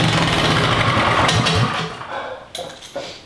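A Predator 212 small engine rigged to run backwards roars loudly and roughly for over a second, then cuts off and sputters with a few sharp irregular pops as it dies down.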